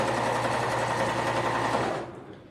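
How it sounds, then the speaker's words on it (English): A serger runs fast and steadily, stitching armhole binding onto a garment with a close, even mechanical whir that stops abruptly near the end. "I am sewing with my serger"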